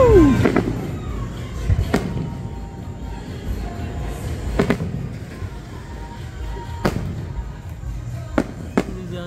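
Fireworks bursting at intervals at Carowinds on Independence Day, sharp cracks and booms scattered over several seconds, with a low rumble and faint voices between them.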